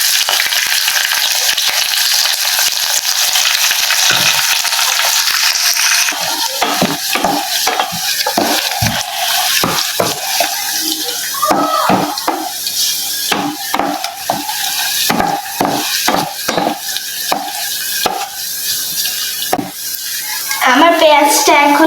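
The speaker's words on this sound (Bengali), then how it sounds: "এখন আমি এর মধ্যে 2টা তেজপাতা দিব আর দিয়ে দিব কিছু পেঁয়াজ।" Two bay leaves and onions hit hot oil with a loud, sustained sizzle, then a spatula scrapes and clacks against the pan in a busy rhythm of rapid strokes while frying continues underneath.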